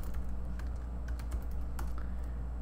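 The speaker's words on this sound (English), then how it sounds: "So we'll do that by typing the colon key and then help." Keys clatter on a computer keyboard in a short, quick run of taps, entering a command on a UNIX command line, over a loud steady low hum.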